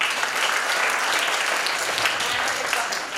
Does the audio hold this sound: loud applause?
yes